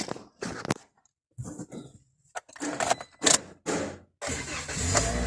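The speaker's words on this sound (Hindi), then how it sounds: "गाड़ी स्टार्ट की है" A Toyota Corolla engine cranks and catches in a few bursts, then settles into a steady running idle, close by.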